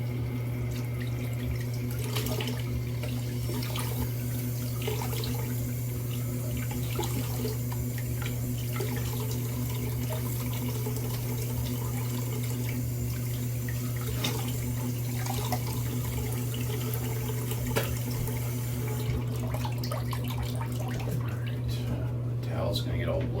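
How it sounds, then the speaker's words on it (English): Running tap water pours steadily into a sink for rinsing after a wet shave, a continuous close splashing hiss with a steady hum underneath, while someone talks over it. "I'm gonna rinse and then we'll get started with the post shave"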